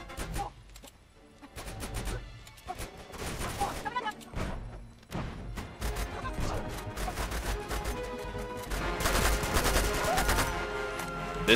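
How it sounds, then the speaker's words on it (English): Automatic weapon fire with a scope-equipped machine gun in Uncharted 2: Among Thieves, set in Nepal, rattling in dense bursts amid crashes and impacts, loud and nearly continuous. "This machine gun definitely comes in handy more than the AK-47, thanks to the scope."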